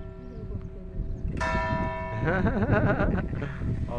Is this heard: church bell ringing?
yes